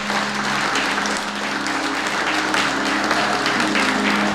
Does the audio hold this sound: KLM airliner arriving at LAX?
no